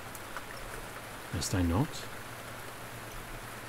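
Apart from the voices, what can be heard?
rain falling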